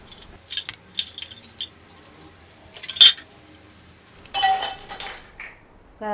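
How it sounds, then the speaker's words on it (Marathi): Steel kitchen utensils clink and clatter as they are lifted off a shelf, coming in several short, bright bursts separated by quiet gaps. "आता या मांडणीवरची सगळी भांडी काढली आहेत"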